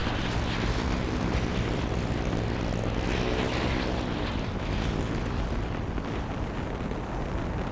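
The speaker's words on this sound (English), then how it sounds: "take you over there with the wasp and just fly over there" A Wasp aircraft flies in the video game Halo Infinite, producing a loud, steady, unbroken engine roar with a droning propeller-like hum that stays constant throughout, with no talking.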